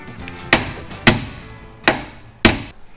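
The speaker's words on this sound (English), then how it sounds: "We need a hammer." Four sharp hammer blows ring out on a Chevy Nova part in a shop, spaced unevenly about half a second apart, loud and close with short decays.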